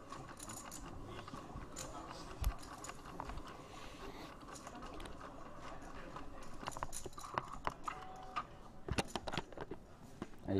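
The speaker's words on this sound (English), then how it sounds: "If you're wondering what that noise is, that would be the card shuffler." Automatic card shuffler at a poker final table in a casino, a busy run of mechanical clicking and ratcheting clatter that grows denser toward the end over steady room murmur.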